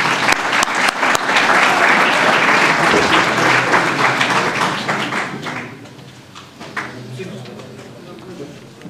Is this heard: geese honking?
no